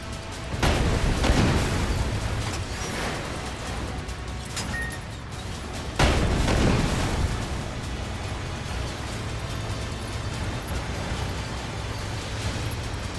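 Tank cannon fire and explosions in the video game Sandland, two heavy booms a few seconds apart, each followed by a rumbling decay over continuous low battle noise.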